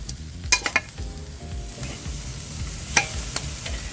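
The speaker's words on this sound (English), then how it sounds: "spread it out like this on top of the hot grill" Chicken wings spread over a hot natural charcoal grill with hickory smoking chunks, a low steady sizzle with a few sharp crackles and pops scattered across it, close and unaccompanied by talk.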